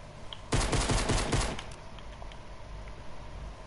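Video game gunfire in a Fortnite-style shooter, a rapid automatic burst of about a dozen sharp shots lasting roughly a second, loud and close, then trailing off into quieter background game noise.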